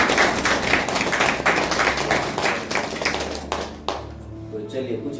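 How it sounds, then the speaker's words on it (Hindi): A church congregation claps together, a loud ragged burst of many hands that fades out over about four seconds, followed by quieter room sound and a soft thump. "चलिए ताली बजा देते हैं।"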